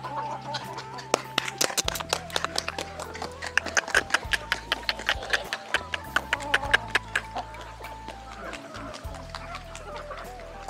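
Chickens cluck and peck steadily nearby, with a faint rumble of background noise throughout.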